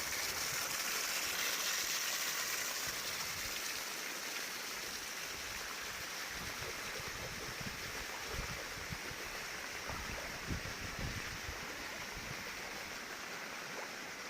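Heavy, unrelenting rain in Vijayapura district with floodwater rushing past, a dense continuous roar of pouring and flowing water that stays loud and even throughout, with no voices.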